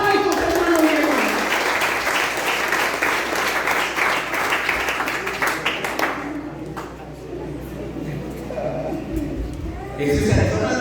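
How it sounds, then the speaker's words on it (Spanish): A church congregation applauds loudly and densely for several seconds, then the clapping thins out as a voice takes over, with clapping briefly rising again at the end. "Fuertes aplausos, hermanos y hermanas."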